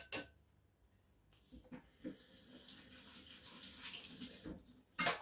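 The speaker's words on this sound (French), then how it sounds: "on va pouvoir rincer le kéfir donc dans l'eau déchlorée, non chlorée" Kefir grains rinsed in dechlorinated water, a soft continuous trickle and splash of running water with faint clinks, quiet and close, with a louder splash at the end.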